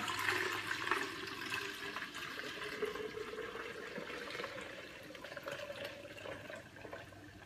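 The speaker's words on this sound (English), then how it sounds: "all I need to add is 8 cups of water." Eight cups of water poured into a pitcher, a steady splashing stream whose tone slowly rises as the vessel fills, continuous and close for several seconds.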